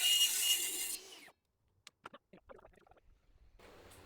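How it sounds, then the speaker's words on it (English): A table saw rips the tongue edge off a tongue-and-groove wooden ceiling plank, a loud, close, hissing cutting noise for about a second that cuts off abruptly, followed by silence and a few light knocks and clicks. "Make sure to rip off the tongue side on your table saw."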